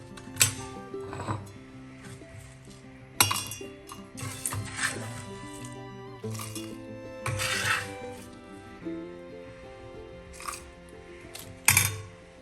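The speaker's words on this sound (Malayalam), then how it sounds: "നമുക്ക് ഒരു മിക്സിയുടെ ജാറിലേക്ക് മാറ്റാം" Small onions (shallots) being tipped into a mixer jar in a home kitchen, with a series of scattered clinks, taps and rattling knocks against the jar, some sharp bursts and quieter handling between them, no talk.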